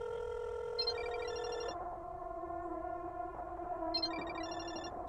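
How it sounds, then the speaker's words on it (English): A phone ringtone in the horror video game Chilla's Art Parasocial chirps in repeating electronic trills over a steady tonal drone, sounding somewhat distant and muffled, as if coming from a balcony. "Your ringtone? I think it's coming from the balcony."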